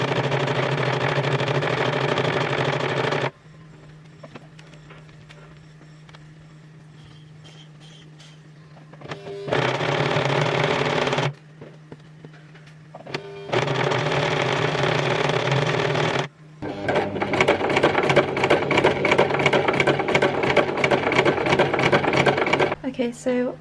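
Bursts of a sewing machine stitching a double roll hem on a skirt start and stop several times, with quiet gaps between them and some talking in between.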